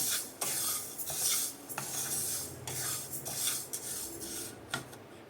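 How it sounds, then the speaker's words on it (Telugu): Fenugreek seeds dry-frying on low flame for mango pickle spice, a ladle scraping and rasping through the seeds in uneven strokes, close and fairly loud, with a light crackle beneath and no voices. "ఇలా గోల్డెన్ బ్రౌన్ కలర్ వచ్చే వరకు ఫ్రై చేసుకోవాలన్నమాట. మెంతులు అన్నవి వేగిపోయినాయి"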